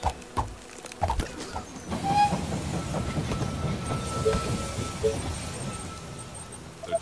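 A train pulls into a station in the strategy game They Are Billions, with rumbling wheels, clattering rail noise and hissing brakes that build and continue steadily for several seconds.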